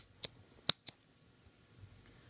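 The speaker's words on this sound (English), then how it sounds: "Okay, and we can cut the thread." Scissors snip beading thread during earring making: three sharp, close clicks in quick succession, the last slightly softer, then near silence.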